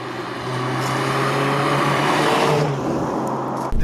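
A BMW M3 E30 Evo drives along small country roads, its engine a loud, steady close drone with a rising tone before it eases off near the end.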